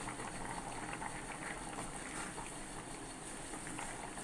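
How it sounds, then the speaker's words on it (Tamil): Chicken kulambu curry with drumstick and potato bubbles in a pot at a steady, continuous simmer. The close, even boil goes on without pause and no one speaks. "அதில் குழம்பு நல்லா கொதிக்க ஆரம்பிச்சிச்சு."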